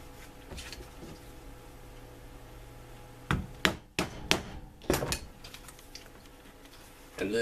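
A rivet is set by hammering to attach a hat brim to its band, giving about five sharp, close metallic strikes in an uneven cluster after a quiet stretch.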